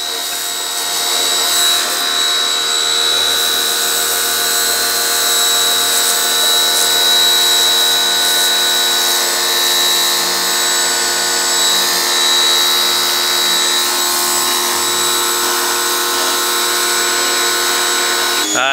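A power tool slices through the bumper of a long-abandoned car left rotting for 25 years, a loud, steady high-pitched whine running continuously and close, with no talk over it.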